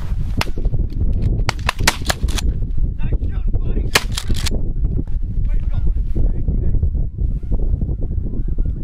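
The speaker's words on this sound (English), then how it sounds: "Nice shot, Hunter." Shotgun blasts during a late-season goose hunt: a loud volley of several sharp shots in quick succession, then a couple more a moment later, over steady outdoor wind noise with people talking.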